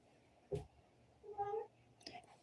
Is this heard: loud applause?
no